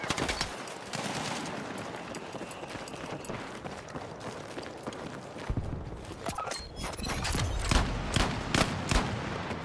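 Rapid gunfire from hipfire in the shooter game Battlefield 6, sharp repeated shots in dense bursts over a busy battlefield mix, growing louder and more clustered toward the end with no talking.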